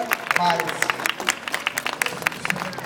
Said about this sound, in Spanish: todo el mundo vamos a darles un fuerte aplauso a ellos que van a tocar vals.